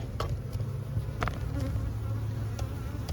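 Honey bees hum steadily around an open hive after a swarm, a dense continuous drone with occasional louder individual bees passing close.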